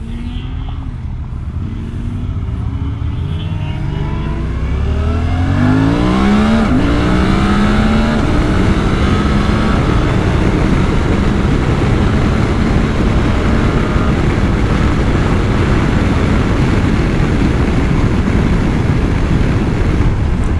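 A Suzuki V-Strom 800DE motorcycle accelerates hard, its engine note climbing through rising pitch sweeps and gear changes before settling into a loud, steady roar mixed with heavy wind rush, recorded up close from the rider's position.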